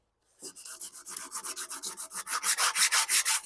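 Fine sandpaper rubbed rhythmically by hand over a lawnmower part in a workshop, a steady run of about twenty quick, close strokes that grow slightly louder, with no talking.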